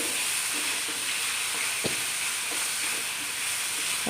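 A jackfruit mixture sizzles steadily in ghee in a pan, a soft continuous frying hiss with a few faint stirring taps, fairly quiet and without talk.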